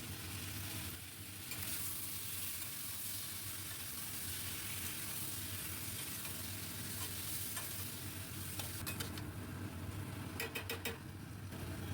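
Ginger, green chili and tomato paste sautéing in a pan for a fish roe curry, a steady soft sizzle with occasional scraping stirs near the end, heard alone.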